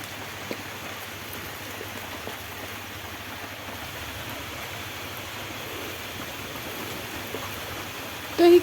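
Steady rain falls outdoors near a mud stove, a soft even hiss of drops that runs unbroken throughout, fairly faint, with a brief louder knock right at the end.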